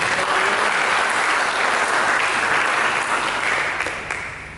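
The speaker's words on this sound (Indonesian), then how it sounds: "Berikan tepuk tangan." A church congregation claps together in sustained, loud applause that holds steady and then tapers off toward the end, with no speech over it.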